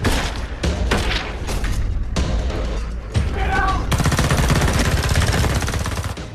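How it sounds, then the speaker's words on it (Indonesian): Heavy gunfire rattles through a film shootout, bursts of rapid automatic shots broken by brief gaps, then a sustained loud volley, with crashing impacts layered throughout. "Aksi saling tembak pun terjadi."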